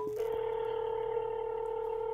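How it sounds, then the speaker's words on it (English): A Samsung Galaxy A33 places a call: a brief dialing blip gives way to a steady, fairly quiet connecting tone that holds on without interruption. "I'm gonna try making a call and we're gonna see if the phone connects"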